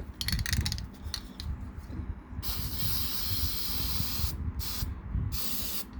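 Black base-coat paint sprays from an aerosol can onto a Titanic wreck diorama model in a few close, loud hissing bursts, starting with short spurts and then a long continuous spray, separated by brief pauses.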